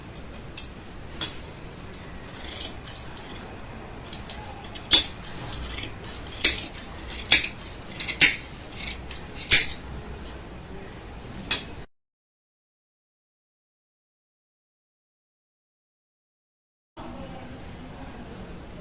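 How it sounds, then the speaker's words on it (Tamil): Scissors snipping through lining fabric while cutting a child's frock for sewing: a run of sharp, close clacks and rustles at an uneven pace, then a gap of silence before faint room sound returns. "இப்போ இதில் அப்படியே லைனிங் கட் பண்ணிக்கிறேன்"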